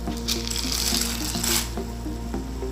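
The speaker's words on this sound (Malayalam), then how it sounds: "അപ്പോൾ വെള്ളം തിളച്ച് വന്നിട്ടുണ്ട്. ഇതിലേക്ക് നമ്മൾ എടുത്ത് വെച്ചിരിക്കുന്ന ഈ മക്കറോണി ഇട്ടു." Water in a pot at a boil after macaroni is dropped in, a steady bubbling hiss with light splashy surges, close and continuous without any talk.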